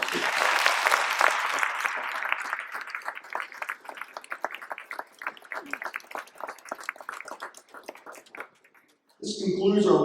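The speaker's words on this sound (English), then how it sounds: "If you would please join me in a round of applause for our kids." An audience claps in a round of applause for the children at a Lower Moreland Township school district ribbon cutting ceremony, dense and lively at first, then thinning to scattered claps before a voice speaks briefly at the end.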